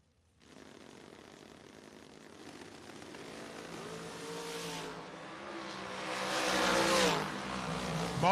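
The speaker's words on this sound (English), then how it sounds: "He's taking on Greg Hicks, driving one of the Overkill dragsters out in 463." Overkill dragster at a drag racing event, a distant engine roar building steadily louder and rising in pitch as it races down the strip, with no commentary over it.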